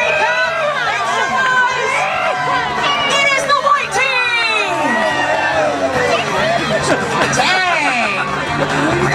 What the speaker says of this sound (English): Alright, everybody, cheer on your team!